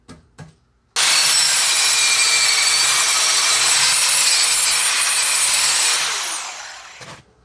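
A power tool buffs a Jeep Grand Cherokee exhaust pipe clean before welding, sounding as a loud, steady, harsh grinding whir that runs continuously for about five seconds, then winds down, with brief clicks before and after.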